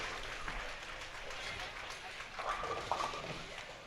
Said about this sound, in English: I always get so curious when I hear big clapping going on.